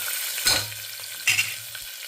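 Green chilli slices and grated ginger stirred in a hot pan for ghee pesarapappu pongal, a steady sizzle broken by two sharp scraping stirs, close and fairly loud, with no talking.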